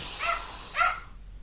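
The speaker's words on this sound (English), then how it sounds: "my dogs freak out" Two short bursts of dog barking or whimpering, about half a second apart, moderately near and with no talk.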